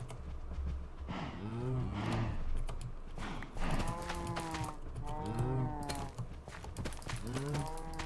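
Cattle in a Minecraft cow breeding pen moo repeatedly, several overlapping game cow calls in close succession with short gaps between them.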